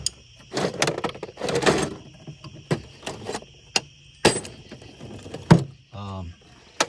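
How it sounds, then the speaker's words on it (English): Tool chest drawers handled among wrenches and drill bits: a series of sharp knocks and clatters with metallic rattles, then a short ratcheting slide near the end, close and moderately loud with quiet gaps between. "This one's really cool. Sliding drawer."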